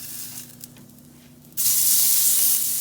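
A garlic and onion burger is flipped in a hot pan: after a soft low hiss, a sudden loud sizzle bursts up and holds steady and close.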